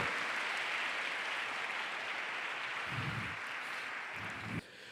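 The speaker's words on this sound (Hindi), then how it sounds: "एक बार तालियां बजाएं जोर से जरा खुदावंद के लिए" Applause from a crowd at a teen conference in Lahore, a dense, even patter of clapping that holds steady and then cuts off near the end.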